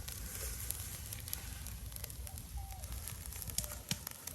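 Rice being stir-fried in a pan for a breakfast fried-rice dish, giving a steady close sizzle with light crackles throughout.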